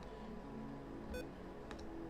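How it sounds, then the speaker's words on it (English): A keyboard gives a short electronic beep as the shift key is pressed, one clear tone over a quiet room hum, with faint key clicks following. "whenever I press the shift button, it just presses it makes a beeping noise"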